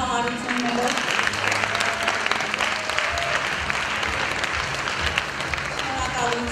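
A festival audience at Voske Ashun 2016 in Hrazdan applauds in a full, sustained ovation, with voices and faint tonal sounds running beneath the clapping.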